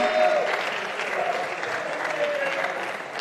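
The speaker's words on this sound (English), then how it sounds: "So round of applause for David Fischer" An indoor audience at a Dutch Eredivisie squash match in an Amsterdam stadium claps steadily and fairly loudly, the applause sustained throughout with a voice faintly audible beneath it.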